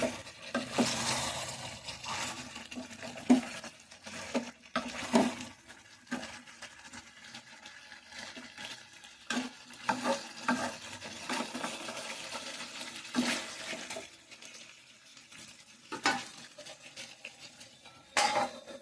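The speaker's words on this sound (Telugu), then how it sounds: "మనం ముక్కలు ఇది అంతా డ్రై అయ్యే వరకు కూడా కొంచెం తిప్పుకుంటూ ఉండాలి." A spoon scrapes and stirs chicken pieces frying in a pan, with repeated metallic clanks against the pan over a steady sizzle, close and continuous with no talk.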